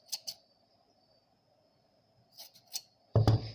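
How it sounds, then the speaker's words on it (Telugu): Scissors snip through blouse cloth in a few crisp, close cuts: two quick snips at the start, a pause, then more near the end, followed by a louder handling rustle. "ఇది మధ్యకి కట్ చేసేస్తున్నాను"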